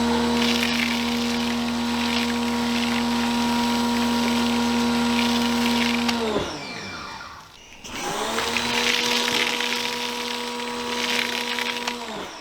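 A Greenworks pressure washer running an Armor All foam cannon hums and hisses steadily, cuts out briefly in the middle, then starts up again and keeps running.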